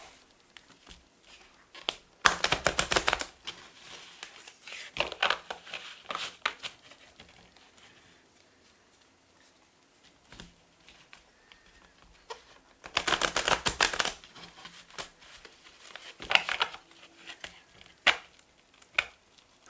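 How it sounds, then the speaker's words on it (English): Two bursts of a deck of tarot cards being riffle-shuffled, each lasting about a second, with scattered taps and light handling noises in between; no talking. "I'll shuffle 2 more times, just kind of heat up the cards."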